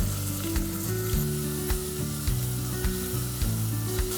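Chopped onions, garlic and ginger sautéing in hot cooking oil with cinnamon and curry leaves, a loud, close, steady sizzle with occasional stirring, heard alone with no talk.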